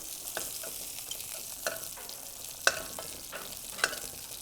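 Shrimp frying and being stirred in a pan, a steady close sizzle broken by occasional sharp scraping clicks of a utensil, with no talking.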